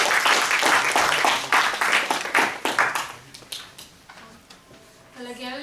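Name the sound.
audience applause welcoming a contest chair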